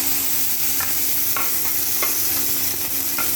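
Nigella seeds, chili, eggplant and flowers sizzle steadily in hot oil in a wok, a close, continuous frying hiss broken by a few sharp crackles and stirring clinks, with no talking.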